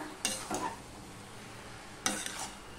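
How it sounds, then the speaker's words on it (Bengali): Saag greens cooking in a pan are stirred in two short bursts of scraping strokes, separated by a quiet stretch of faint simmering. "এবার এটাকে সমানে ঘেঁটে নিতে হবে।"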